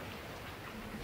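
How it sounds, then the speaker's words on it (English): Steady rain hisses across the whole moment, a dense, even patter with no other sounds. "It is raining."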